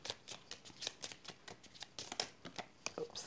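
Tarot cards being shuffled by hand, a quick run of crisp riffling flutters and soft slaps repeating in a steady rhythm, close and fairly quiet with no talking.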